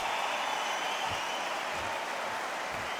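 A capacity crowd at a boxing match in the video game Undisputed on PS5 cheers and applauds in a dense, continuous roar with no breaks.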